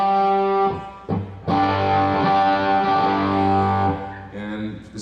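Heavily distorted electric guitar through a PRS Super Dallas amp, loud and close, sustained chords ringing with a brief pause near the one-second mark and a softer tail at the end, no talking.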